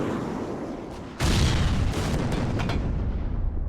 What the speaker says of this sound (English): One of the missiles gets deflected, so we actually get a hole where normally we wouldn't get a hole.